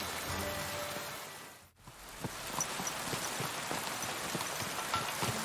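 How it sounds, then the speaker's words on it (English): Steady rain pours down in the medieval Bohemian world of Kingdom Come: Deliverance 2, a dense even hiss with scattered drop patter and soft thuds, briefly dipping before resuming at constant strength. "Still raining."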